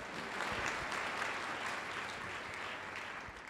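A church congregation applauds together, a dense, steady wash of clapping that carries on evenly from start to finish at moderate level, with no one speaking over it.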